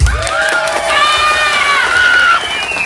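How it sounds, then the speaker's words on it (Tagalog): Party guests at a child's first birthday celebration cheer, whoop and shout together, with children's high voices rising in long sliding calls, loud and close, accompanied by some scattered clapping. "pwede ko po bang napalakpakan at sigawan?"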